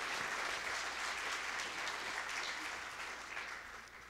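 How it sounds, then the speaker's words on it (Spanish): Sustained applause from a seated audience after a presentation, a dense, even wash of clapping heard from some distance, tapering slightly toward the close. "nuevamente agradecemos a Antonio, por favor, con un fuerte aplauso."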